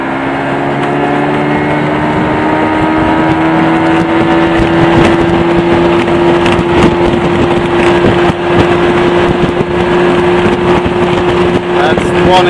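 A center console jon boat's outboard motor runs at full throttle on a lake, a loud steady drone with constant wind buffeting across the microphone throughout.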